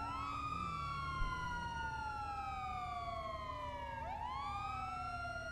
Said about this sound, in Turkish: Sirenleri kapatabilir miyiz ablam